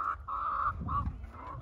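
Chickens feeding make nasal, honking clucks in a few short bursts close by, with faint scuffling noises beneath.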